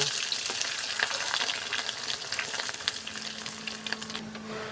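An egg fries in a pan with a soft, continuous sizzle and crackle, broken by occasional spatter pops and a low hum late on.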